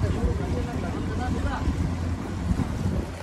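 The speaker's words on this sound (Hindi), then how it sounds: "अभी हम जा रहे हैं राइडिंग करने के लिए, बोट राइडिंग।" A passenger boat carrying about 27 people cruises across a lake in Udaipur, with a continuous low engine rumble and buffeting wind noise on the microphone.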